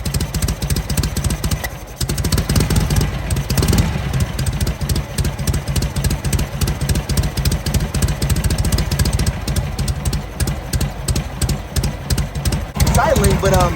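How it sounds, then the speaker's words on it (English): A Knucklehead motorcycle engine with a Linkert carburetor idles roughly with an uneven, loping beat: close, loud, rapid thumping that stumbles rather than running smooth, with a voice speaking over it. "it's doing what you would call loping. Where it's like ba-dum. It's not super smooth."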